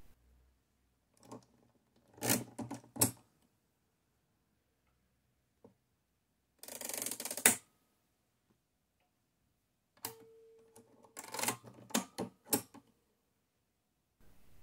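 An Odhner 7 mechanical calculator is set to a number by hand, giving several short bursts of crisp ratcheting clicks and ticks separated by quiet pauses, close and fairly loud, with no talk.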